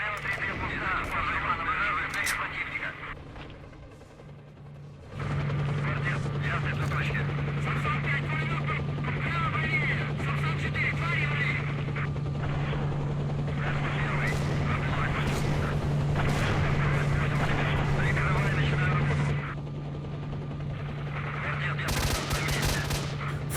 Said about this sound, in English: Shoot her up high with a Gauss rifle.